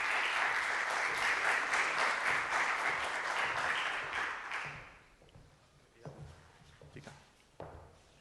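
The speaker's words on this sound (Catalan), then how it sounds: "Un fort aplaudiment per ella." Applause from the audience at a talk on artificial intelligence, dense clapping for about four seconds that fades out, leaving a few faint taps and bumps in a quiet room.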